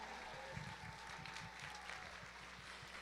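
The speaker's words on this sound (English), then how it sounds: "let's give a final round of applause to all 7 of our presenters tonight." An audience at a PechaKucha night in a hall applauds the presenters, a faint, distant patter of clapping that runs steadily throughout.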